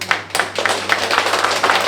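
Clapping from an audience thanking five presenting companies at a redevelopment trust-method briefing session, a small group's scattered hand claps carrying on steadily for two seconds, fairly close, with a low hum underneath.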